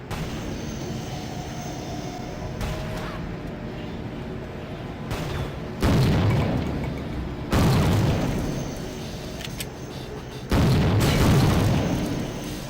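Several heavy explosions in the 2000 PC shooter Soldier of Fortune, each a loud booming burst with a rumbling decay, spaced a few seconds apart over a low continuous game ambience, with no one talking.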